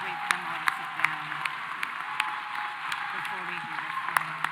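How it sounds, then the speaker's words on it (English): Light, sparse clapping from a graduation audience applauding the graduates at a WCU Class of 2023 ceremony, separate claps popping over a low crowd murmur and faint voices in the hall. "can we give the graduates another round of applause?"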